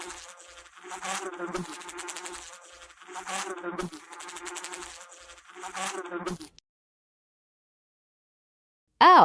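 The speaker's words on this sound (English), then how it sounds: "Bee." A bee buzzes steadily in close, wavering drones that rise and fall for several seconds, then cut off into silence before a brief loud burst at the very end.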